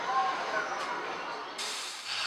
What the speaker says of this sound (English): So now we sear it on both sides for about 3 or 4 minutes on each side